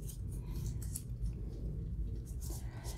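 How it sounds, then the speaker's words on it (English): Scissors cutting pieces from a Christmas card for a paper tag: a steady, soft snipping and paper rustle close by, continuous and fairly quiet throughout. "I started to cut out."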